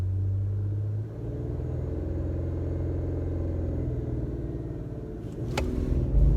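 A 2018 Infiniti Q50 Red Sport 400 in standard drive mode accelerates hard in a street race against a Mustang, its engine a steady, loud, close rumble that swells toward the end, with no talk over it.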